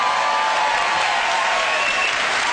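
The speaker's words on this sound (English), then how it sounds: "Give them a round of applause." A live comedy stage show audience applauds steadily and loudly as volunteers are called up onto the stage, a dense continuous wash of clapping with no break.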